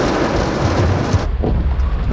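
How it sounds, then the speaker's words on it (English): Heavy rain pours down on a moving BMW convertible with its top down in a steady, dense roar, with a deep rumble underneath and a slight shift in texture partway through. "Oh, that's hard rain."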